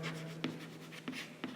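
Short chalk or marker strokes scrape on a classroom board, three quick taps spaced evenly over a soft steady hum, quiet and close.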